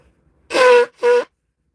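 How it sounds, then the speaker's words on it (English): Two loud honking nose blows close by, the first longer and the second shorter, with a quiet pause between them. "just got to blow my nose"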